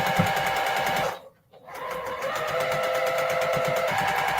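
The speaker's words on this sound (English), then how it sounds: "And just sew it down." A sewing machine stitches a seam in a rapid, steady mechanical chatter, pausing briefly near the middle before running on, close and clear with no talk.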